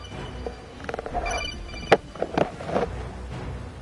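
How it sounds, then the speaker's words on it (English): A phone rings in a short, repeated electronic tone pattern, moderately loud and close, with clicks and faint background noise but no speech. "Hang on, my phone's ringing."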